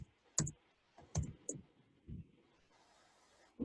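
A few scattered key clicks on a computer keyboard while typing into an on-screen text box, quiet and close, with irregular gaps between strokes and no talk.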